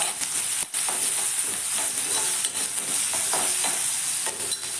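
Chopped onion sautéing in a pan for a Kerala soya chunks thoran, a steady broadband sizzle with scattered scraping stirs and clinks throughout, close and fairly loud, no voices.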